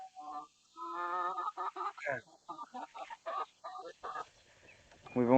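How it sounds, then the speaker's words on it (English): Chickens in a backyard coop, red hens, clucking and squawking close by in short choppy bursts, several overlapping calls with a louder final cry, no talking. "come over here to this chicken coop"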